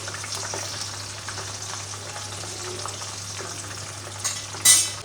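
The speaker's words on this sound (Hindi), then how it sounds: "चिकन फ्राई हो चुका है" Chicken pieces frying in a pan, with a steady close sizzle and crackle throughout, some light stirring clinks, and a brief louder metallic scrape near the end.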